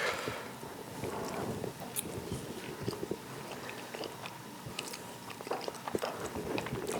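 Someone bites and chews freshly fried blini, made for the Maslenytsia festival, with soft crunchy munching close to the microphone against a busy indoor background.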